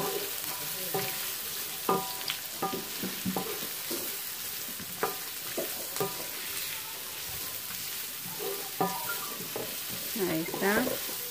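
Carrots frying in a pan give a steady sizzle, broken by repeated stirring scrapes and utensil knocks, with a few faint bits of background talk.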